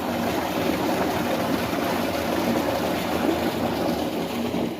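Water gushes steadily from a solar-powered tubewell motor outlet, a loud, continuous close-up rush of splashing flow with no pauses.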